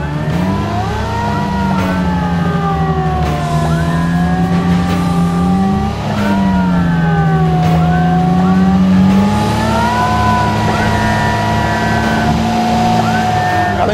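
Off-road vehicle engine labouring steadily up a steep hill with the differential lock engaged, a loud, continuous drone whose pitch rises and falls in long swells as the load changes, with no talk over it.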